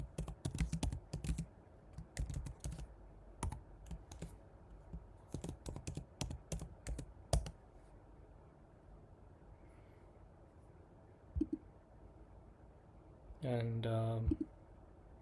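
Rapid clicking keystrokes on a computer keyboard as a new question is typed into a research paper chatbot, bursts of close taps in the first half, then quiet, with a brief word spoken and a short tonal sound near the end.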